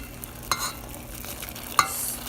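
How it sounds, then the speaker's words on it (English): Lentils being stirred gently into a pot of water just off a rolling boil, two sharp clinks of a utensil against the pot over a soft, steady simmering hiss, with no talking. "Once it's kind of got less of a big, huge rolling boil to it, I'm gonna add my lentils."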